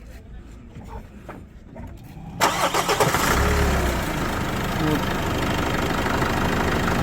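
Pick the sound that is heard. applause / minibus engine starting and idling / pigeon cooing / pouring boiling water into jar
minibus engine starting and idling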